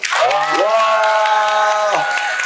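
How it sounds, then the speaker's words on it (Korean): A seminar crowd at a Seoul money show roars a long drawn-out cheer together, a loud unified voiced shout that swells, holds and then dips, with some clapping beneath. "자, 박수 함성 시작!"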